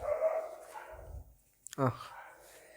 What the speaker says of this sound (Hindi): बाहर में कुत्ते बहुत भौंक रहे हैं